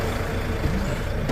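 A Volvo 500-horsepower Euro 6 truck engine runs after starting, giving a steady, dense diesel rumble at close range with no break in level.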